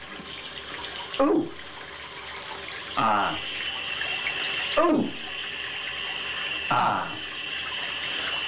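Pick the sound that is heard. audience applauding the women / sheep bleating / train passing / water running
water running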